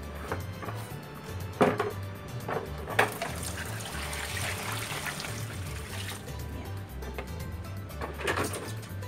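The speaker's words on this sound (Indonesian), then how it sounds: "Kemudian siram dengan air sampai tembus ke bawah. Siram yang banyak." Water poured over the planting medium for a grape vine, a soft trickling and splashing that runs on steadily, with a few louder knocks and sloshes mixed in and a low hum underneath.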